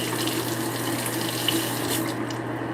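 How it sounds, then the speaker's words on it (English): Cold tap water runs steadily into a sink to rinse something during soap making, a continuous close splashing hiss with no break for the whole stretch. "I usually just run it under cold water for about 20 seconds"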